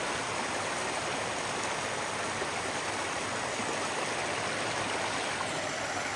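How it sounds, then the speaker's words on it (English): Stony Brook, a rocky stream along a Connecticut hiking trail, pours over stones in a loud, continuous broadband rush with no pauses, close by and steady throughout. "this is where you have to get water because there's really no way to access this brook"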